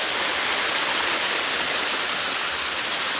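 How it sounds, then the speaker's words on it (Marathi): Rain falls in a steady, dense hiss that stays even and unbroken throughout, with no voices. "आता पाऊस चालू आहे"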